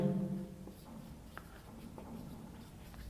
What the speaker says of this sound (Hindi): यहां लिखेंगे एंगल